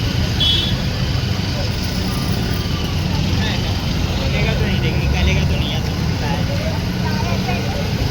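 Road traffic rumbles steadily around a rickshaw stand near Mulund station in Mumbai, with passing vehicles and engine noise continuous throughout and people talking in the background.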